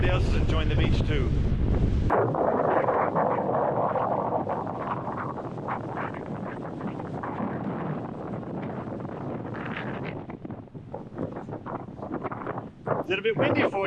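Wind gusts across a beach and rumbles against the microphone, loud at first and then a steadier moderate roar with bursts of buffeting near the end.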